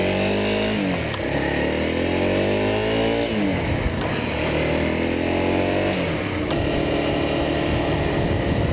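A Honda CRF250L motorcycle engine while riding, loud and close, revving up through the gears with rising pitch, short dips at each shift, and a steady drone between, no talk.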